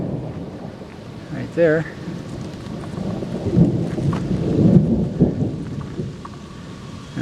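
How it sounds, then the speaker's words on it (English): Thunder rumbles through a mountain rainstorm with light rain along the John Muir Trail near Emerald Lake, low rolling swells building midway under steady rain patter, with a brief spoken remark. "Had tons of thunder for the last hour and a half"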